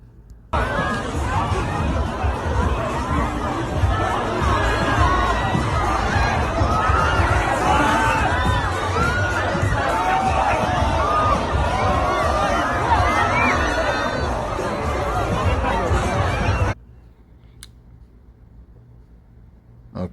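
A large, dense crowd at a tragic crush roars with a loud, continuous babble of shouting and cheering voices, steady and close, then cuts off abruptly into near silence.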